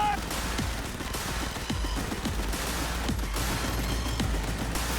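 Gunfire in the video game Cyberpunk 2077, rapid bursts and repeated heavy shots in a dense firefight over a busy background, with voices calling out amid the shooting.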